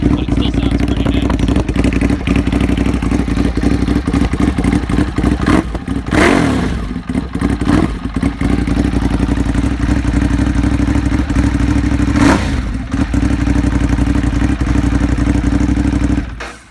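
A 2015 Ducati Monster 821 motorcycle engine idles with a steady, close, low throb throughout, broken by a couple of brief louder blips before settling back to idle.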